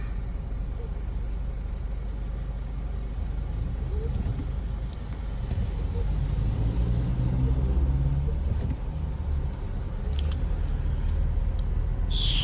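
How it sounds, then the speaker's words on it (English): Jeepney traffic jam by the wharf in Iloilo City, a continuous low rumble of idling diesel vehicles with passing engines and a brief air-brake hiss near the end. "Looks like there's a little bit of jeepney traffic jam here."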